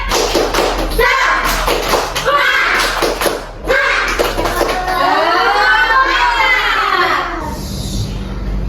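First-grade elementary pupils in a classroom do the rhythmic 'tepuk semangat' clap: loud, sharp, patterned claps in quick bursts, followed by children's voices chanting along in unison.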